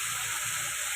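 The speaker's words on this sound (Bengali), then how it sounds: "জল" Water is poured into a pan while cooking pomfret fish curry, a loud, steady, bright rushing splash that fills the whole brief moment without pause.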